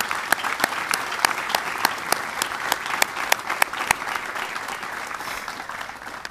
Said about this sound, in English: Just please express your appreciation with a round of applause.